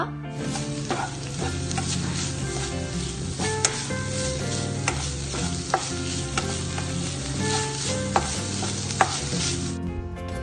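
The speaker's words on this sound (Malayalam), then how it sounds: "ഇതിലോട്ട് നല്ലപോലെ ക്രഷ് ചെയ്തെടുത്തിട്ടുള്ള കുറച്ച് ഇഞ്ചിയും വെളുത്തുള്ളിയും കൂടി ചേർത്തിട്ട് നല്ലപോലെ ഒന്ന് മിക്സ് ആക്കി എടുക്കുക" Prawns with crushed ginger and garlic being stirred in a hot buttery pan, a loud continuous sizzle with repeated scraping and clinking of the spoon against the pan, close up and without talking.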